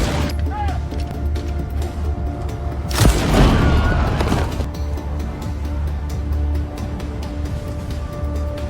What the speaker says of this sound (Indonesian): memicu ledakan besar yang mengacaukan seluruh area